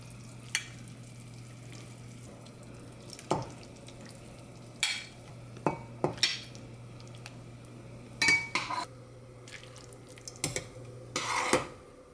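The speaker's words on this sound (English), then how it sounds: "Then remove the soup into a big soup bowl." Lion head meatball soup with bok choy is ladled from a pot into a big soup bowl, giving scattered clinks of utensil on pot and bowl over a quiet background with faint drips.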